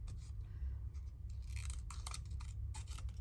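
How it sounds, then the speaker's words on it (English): Scissors cut through paper ephemera during a craft session, making several quick, close snips in short bursts over a low steady hum. "Like here, I just come along and snip it off and then start again."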